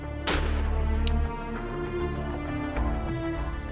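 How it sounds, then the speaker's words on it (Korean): A single loud gunshot cracks out during a wild boar hunt, followed by a lower rumbling echo and a fainter sharp report a couple of seconds later, with no voices. "멧돼지를 찾기 위해 수색 작업을 하던 중 총성이 들린다."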